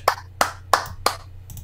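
A few slow hand claps ring out during a casual live stream: about four sharp, evenly spaced claps, close and distinct, with a faint fifth at the end and no voices.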